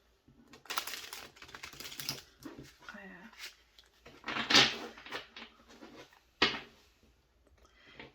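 A tarot card deck with bendy, non-stiff cards being shuffled, giving soft riffling and flicking bursts with a couple of louder snaps, while a person talks over parts of it.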